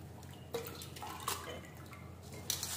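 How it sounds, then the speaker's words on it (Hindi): Wheat grains being washed quickly in water in a strainer, giving soft, faint splashes and trickles with a few sharper sloshes, close by and otherwise quiet. "ये देखिए, इस तरीके से जल्दी जल्दी आपको धोना है ताकि आपका गेहूं पानी ना पिए।"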